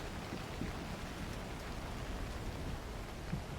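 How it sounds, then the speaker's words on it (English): Steady, dense rain hiss from the video game Cairn, falling evenly throughout with a faint patter of drops and no voices. "unfortunately, it's raining."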